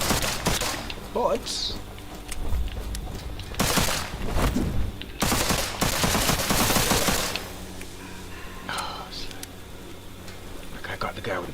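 Rapid gunfire from the Witchfire video game comes in repeated loud bursts, with heavy thuds between them, while someone talks over the shooting.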